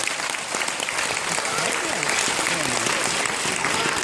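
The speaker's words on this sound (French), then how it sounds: "Super, on peut l'applaudir très fort." Loud, dense applause from an audience at a stage hypnosis show, steady throughout, with voices faintly mixed into the clapping.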